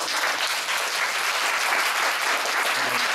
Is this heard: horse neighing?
no